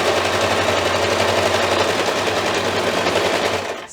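Close, loud sewing machine stitching forward and back on a quilt-as-you-go table runner, one continuous even hum of rapid needle strokes that cuts off abruptly at the end.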